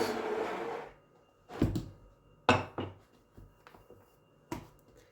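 A few sharp, dull taps and thumps on puff pastry dough with hard butter, spaced irregularly with quiet gaps between them, after a brief burst of broadband rustling noise at the start.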